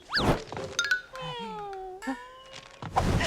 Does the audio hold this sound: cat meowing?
yes